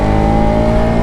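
A Yamaha motorcycle ridden fast by a young boy gives a loud, sustained engine drone with a steady buzzing pitch, close and unbroken, and no voices are heard.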